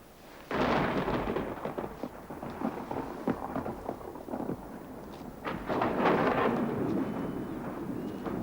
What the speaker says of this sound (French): C'est un simple orage.